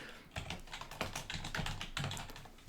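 Rapid clicking of keys on a computer keyboard, a quick run of soft taps, close and fairly quiet.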